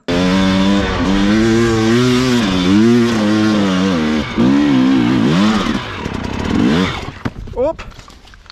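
An enduro motorcycle on a training ride roars close by with a loud revving, pitch-sweeping engine that rises and falls through gear changes, then fades out as it passes; a brief exclamation is heard.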